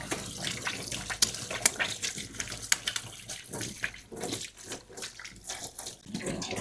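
Running tap water splashes over hands being rinsed during a manicure, a close, continuous splashing stream broken by irregular sharper spatters as the hands move under the flow.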